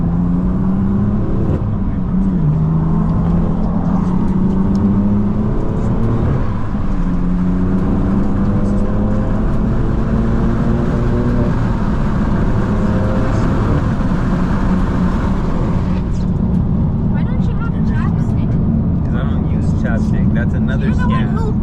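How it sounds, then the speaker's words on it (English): A car engine warming up runs as a steady, loud hum with slowly shifting tones that rise and settle, the drone continuing under a lower rumble for the whole stretch. "My car is still warming up."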